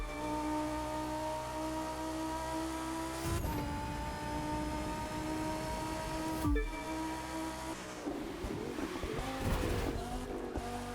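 A car in The Crew 2 racing game drifts with a sustained engine whine and long tire squeals, punctuated by two sharp impacts or shifts, followed by rougher skidding toward the end, continuous and fairly loud.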